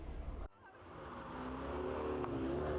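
Mazda MX-5 SuperCup race cars roar at Cadwell Park after a sudden cut, engines revving with a rising tonal whine that swells steadily as the cars draw nearer.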